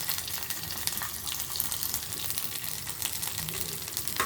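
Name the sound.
garlic, mustard seeds, fenugreek, cumin and dried chillies frying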